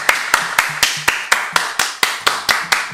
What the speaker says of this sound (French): Allez, on l'applaudit, tous en cœur.